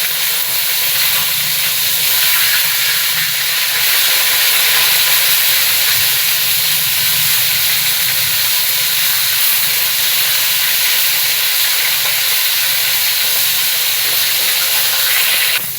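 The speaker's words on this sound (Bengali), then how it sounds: "মাছটা ভাজা হোক" Whole tilapia pieces frying in hot oil in a pan, a loud steady sizzle and hiss that runs unbroken close to the mic with no talking.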